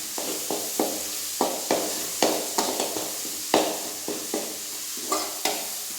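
Onions sautéing in a pan for Kerala chicken roast, with a steady close sizzle broken by about a dozen sharp scrapes and clanks of a spoon stirring against the pan.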